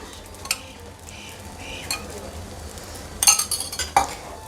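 Oil drizzled over a sorghum dosa on a hot pan sizzles softly, with a light clink of a utensil and a brief burst of crackle near the end.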